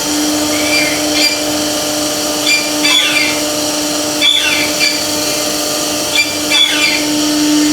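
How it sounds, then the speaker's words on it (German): A CNC milling machine cuts an X shape with a large-diameter cutter, a steady high-pitched machining whine with a constant hum beneath and recurring brief squeals, loud and continuous throughout. "Der hat jetzt praktisch erstmal mit dem Fräser mit größerem Durchmesser das X gefräst"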